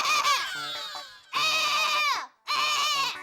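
A human voice imitates a crow crying like a goat, giving three drawn-out, bleating wails, each broken by a short gap, loud and close.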